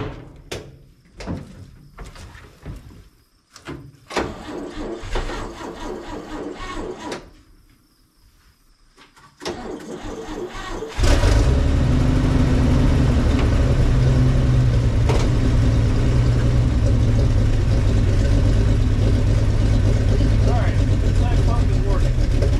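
Engine of a 1961 Chevy Viking 60 truck cranking after clicks and clunks, then catching and settling into a loud, steady running rumble for the second half, with a person speaking briefly early on.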